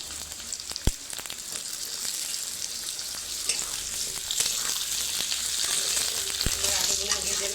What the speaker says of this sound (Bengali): আলুগুলো ভেজে নেবো পেঁয়াজের সাথে।